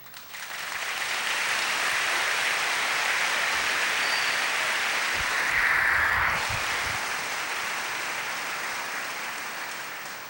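Audience applause during a Catholic preaching event, a dense sustained wash of clapping that swells mid-way and continues steadily throughout, with no voices over it.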